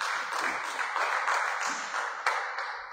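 A church congregation applauding during a worship service, a steady wash of many hands clapping together at moderate distance, sustained throughout with no break.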